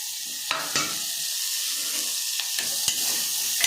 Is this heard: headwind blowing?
no